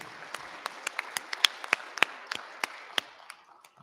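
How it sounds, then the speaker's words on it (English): Sparse applause from a modest audience at a regional science and engineering fair, a scattering of distinct claps close by that thin out and fade toward the end. "Let's have a round of applause for all of these wonderful young people up here."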